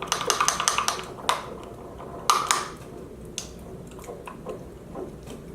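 A spoon scrapes and clinks against a bowl of microwaved coconut manna, making soft sticky squishes and small taps in irregular bursts, close and fairly quiet, with no talking.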